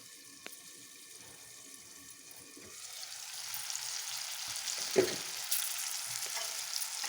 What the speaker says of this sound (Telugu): వేగుతుందండి వేగుతుంది